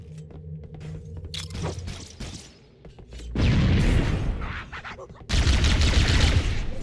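Grenade explosions and gunfire in the video game Halo: Combat Evolved, with two loud, broad blasts that each roll on for over a second, following a busier stretch of shots and battle noise.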